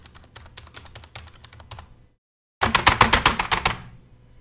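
A computer keyboard clatters through a steady run of key presses. The typing breaks off into a brief silence, then comes back with a louder, closer burst of rapid taps before fading out. No voices are heard.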